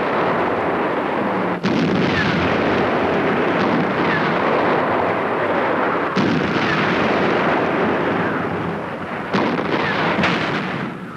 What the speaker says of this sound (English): The Russian batteries picked them off in minutes.